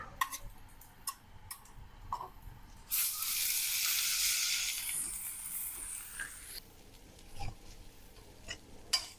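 Ginger, garlic and onion paste frying in a pan for omelette bhuna gives a broad sizzle that swells for a few seconds midway, then fades back to quieter ticks and light pops.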